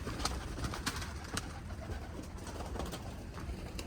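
Pigeons at a home coop give soft, low cooing in a steady murmur, with scattered brief clicks and rustles nearby.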